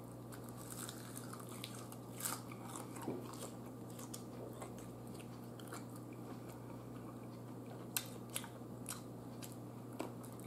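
Crunchy bites and wet chewing of Popeyes ghost pepper wings come up close, with irregular crisp crackles and a few sharper snaps over a low steady background hum.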